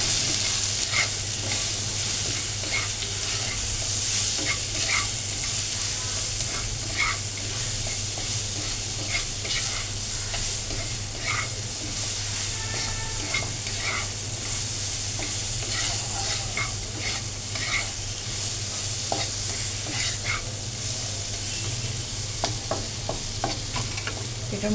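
Salted food frying in a pan, a constant loud sizzle with steady scraping stirs and small ticks of a spatula on the pan, close and uninterrupted, with no voices.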